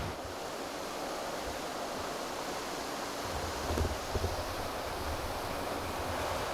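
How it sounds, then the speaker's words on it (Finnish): Strong wind roars steadily across the microphone, a constant broadband rush with occasional gusty buffeting and no voices. "Tässä tuulee aika kovaa"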